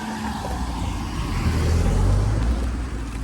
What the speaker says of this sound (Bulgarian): Ето вече почват тировете, колите, движението.